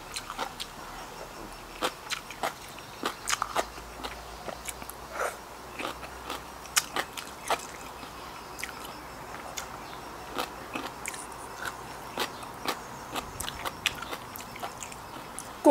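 Crisp, crunchy bites of fresh homegrown vegetables eaten with a spicy shrimp salad outdoors, a steady run of sharp close-up crunches at irregular intervals over a quiet background.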